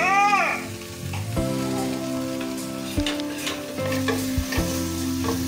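Chopped onion and capsicum fry in a pan with turmeric powder while being stirred, giving a steady close sizzle with scraping stir strokes and a few sharp clinks over the frying, no voices.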